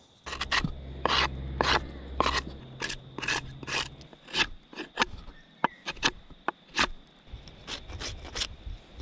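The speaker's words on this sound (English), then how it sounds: "So I'm just cutting a bit of gum tree, some hardwood for my handhold" A piece of hardwood gum tree is cut by hand outdoors in the Australian outback, giving a series of close, irregular rasping strokes, some quick and some spaced apart.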